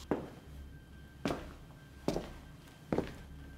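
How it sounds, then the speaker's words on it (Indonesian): Footsteps on the floor upstairs serve as a sound effect in a narrated story: four slow, evenly spaced heavy thuds, each with a short dull decay, over a low hum. "kedengaran suara langkah kaki."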